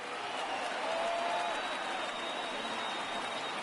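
Crowd of over 36,000 at a Red Sox vs. Mariners baseball game in the ninth inning, a dense, steady roar of cheering and applause filling the stadium, distant and sustained without a break.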